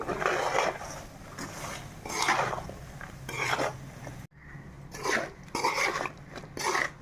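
Chicken pickle being mixed with salt, chilli and spices in a metal pot, repeated scraping and clattering strokes of a spoon against the pot in an uneven rhythm, with a brief pause midway.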